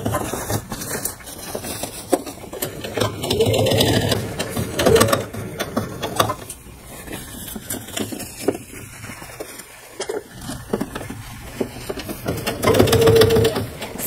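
A home sewing machine stitches the hem of a McCall's 8281 dress in bursts of steady mechanical whirring and clatter, close and moderately loud, pausing briefly between runs with no talking.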